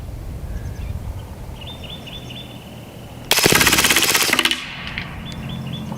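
An airsoft gun fires a rapid full-auto burst of about a second as the magazine empties, loud and close outdoors on a ranch, with faint birdsong in the background before the shots.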